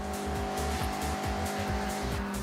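A Mazda MX-5 drifts through corners in the racing game Forza Horizon, its engine note droning steadily with rising and falling revs and tire squeal as the car slides.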